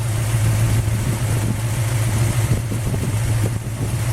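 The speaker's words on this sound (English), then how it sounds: "So I'm going to back my RPM back down to the desired RPM." A small block Mopar V8 in a Plymouth Duster runs at a steady fast idle while its initial timing is set, a low, even rumble close up with slight lumpiness and no talk over it.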